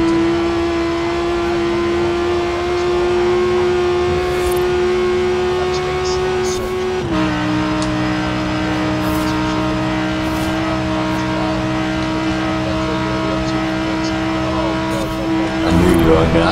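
Car engine in Forza Horizon 4 droning steadily through a tunnel, a sustained hum with a drop in pitch partway and a brief rise near the end, loud and continuous, with talk over it.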